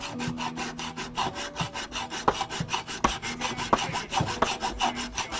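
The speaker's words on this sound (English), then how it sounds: "come in here with my hacksaw, and I just cut the hinge right at the edge here." A hacksaw cuts through a hinge on a cigar box guitar, its close, rhythmic back-and-forth strokes rasping steadily without pause.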